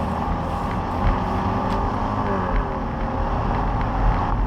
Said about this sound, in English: This little 4-cylinder sounds pretty angry when you wind it up.